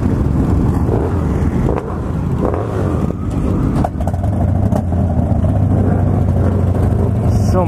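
Many motorcycles idle together at the Distinguished Gentleman's Ride in Los Angeles, 2016, waiting to roll out. Their engines make a steady, loud low rumble with wind buffeting the microphone.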